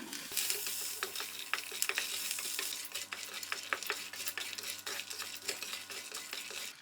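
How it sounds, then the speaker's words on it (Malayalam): Dried red chillies and curry leaves sauté in a pan for peanut chutney, with quiet, repeated spatula scrapes and clinks over a low, gentle sizzle and faint hum, without speech. "ഇത് നമുക്ക് കുറച്ച് സമയം ഒന്ന് വഴറ്റിയെടുക്കണം."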